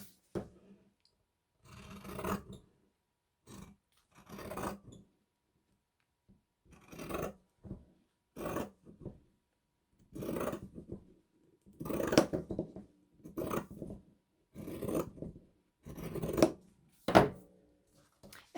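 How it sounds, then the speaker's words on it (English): Paper for a Christmas junk journal cover is trimmed down with scissors in a quiet room, giving a long series of short, close snipping and rustling cuts separated by brief pauses. "I'm going to cut this down a little bit."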